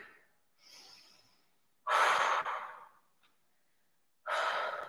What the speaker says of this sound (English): And now I'm going to try to breathe.